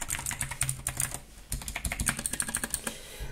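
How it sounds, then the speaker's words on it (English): Typing on an inexpensive mechanical keyboard, a dense, continuous patter of sharp clicky keystrokes close by, steady and uneven in rhythm for a few seconds with no talking. "it's a keyboard."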